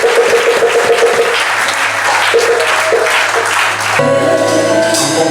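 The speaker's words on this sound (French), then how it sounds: "Elles sont acclamées." A crowd applauds newly consecrated women at a church ceremony for a reverend-pastor's consecration, loud sustained clapping filling the space, with a brief shift in the sound partway through.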